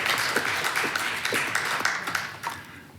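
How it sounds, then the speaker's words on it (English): Audience clapping at a city council meeting, a steady patter of many hands in a room, moderately loud and tapering toward the end. "We appreciate if you keep the clapping to a minimum."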